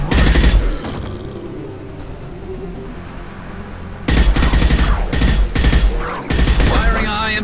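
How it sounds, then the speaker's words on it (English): Loud, heavy high-impact gunshots in Mass Effect 2, a sharp burst at the start, then three more booming shots close together near the end over a low game background. "Firing a high impact shot."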